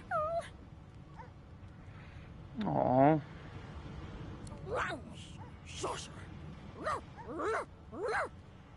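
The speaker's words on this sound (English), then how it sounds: "The dog whines and continues pawing at its nose." Dog whining in Divinity: Original Sin 2, a few short high whimpers and yips spread over several seconds under game music and a speaking voice.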